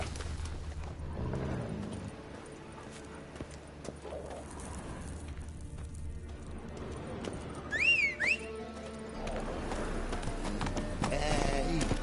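Roach, Geralt's horse in The Witcher 3, galloping with steady clip-clop hoofbeats under game music and ambience, a brief whinny rising midway.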